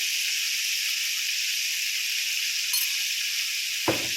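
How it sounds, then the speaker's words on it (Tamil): Tomatoes sautéing with rock salt in a pan for chayote curry make a steady, close, bright sizzle and hiss throughout. Near the end there is one brief low thump. "கொஞ்சமாக இது கூட கல்லுப்பு சேர்த்து நான் வதக்கிக்கிறேன்."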